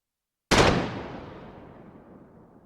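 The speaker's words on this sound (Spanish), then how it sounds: "los cañones de la flota mexicana abrieron fuego." A single heavy boom of naval cannon fire from a fleet hits suddenly, then rolls off into a long, fading rumble.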